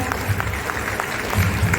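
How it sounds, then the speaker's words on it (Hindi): An audience at a Mahila Congress rally applauds a welcome, producing a short burst of steady, moderately loud clapping from a crowd with a murmur of voices underneath. "ते सगळ्यांनी जोरदार टाळ्या"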